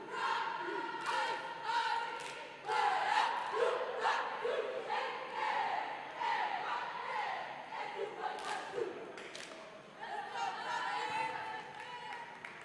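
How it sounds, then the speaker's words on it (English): Cheerleaders chant in unison at a high school boys varsity basketball game during a timeout, a loud rhythmic group of voices echoing through the gym with crowd noise around them. "Had a little cheerleader chant going on."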